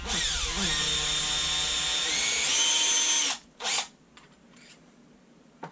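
Power tool whirring steadily as it uniforms the primer pocket of a thick, solid-bottomed Lapua .338 Lapua brass case, running loud and continuous for about three seconds before cutting off, followed by a few short bursts.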